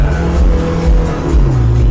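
A car with a 1.5-litre diesel engine accelerates close by, its low engine drone loud and steady, with the pitch shifting slightly as it pulls through the revs.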